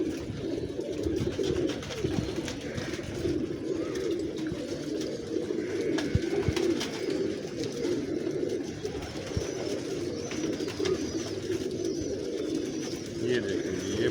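Pigeons at a breeding setup coo softly and repeatedly in a low, throaty murmur, near and continuous, with faint background movement.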